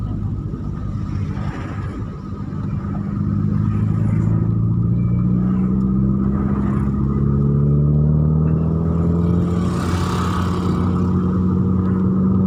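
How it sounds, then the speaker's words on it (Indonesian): Busy road traffic with many cars at Tanjung Sementok, Aceh Tamiang: a loud, steady rumble of passing vehicles with engine drones rising and falling and a nearby vehicle accelerating, no talking. "Ya rame mobil nih."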